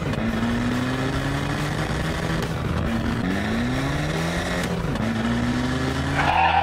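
A cartoon car engine whines and revs with rising and falling pitch, tires squealing through skids before a crash, loud and continuous throughout.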